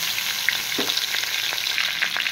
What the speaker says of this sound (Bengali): ওই কড়াইতেই দিয়ে দিচ্ছি ডাঁটা আর আলু।